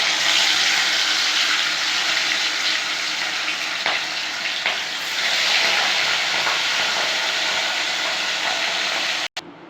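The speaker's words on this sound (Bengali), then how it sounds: "মাছগুলোকে আমরা ভেজে নেব।" Pieces of rohu fish sizzle and spit in hot oil for nearly ten seconds, a loud, steady, close crackle with brief pops, cut off abruptly just before the end.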